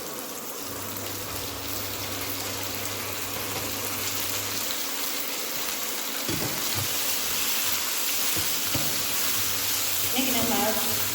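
Onion and tomato sauté in a pan for banana bajji masala, a steady low sizzle and crackle running throughout with a few stirring scrapes near the end, while someone talks over it.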